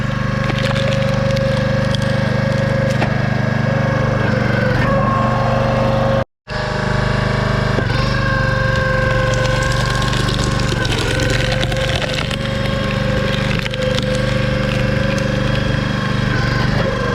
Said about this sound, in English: My splitter is a Husky 22 ton I've owned for a number of years.